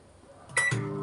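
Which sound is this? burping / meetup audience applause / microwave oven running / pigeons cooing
microwave oven running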